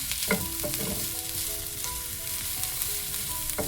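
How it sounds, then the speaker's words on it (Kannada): Sliced onions sizzle and fry steadily in a hot pan, with a continuous crackling hiss, light clinks of stirring, and a brief louder scrape early on; no one speaks. "ಆ ಈರುಳ್ಳಿನ ಹಾಕ್ಕೊಳ್ತಾ ಇದ್ದೀನಿ. ಇದನ್ನು ಕೂಡ ಚೆನ್ನಾಗಿ ಫ್ರೈ ಮಾಡ್ಕೊಳ್ಳೋಣ"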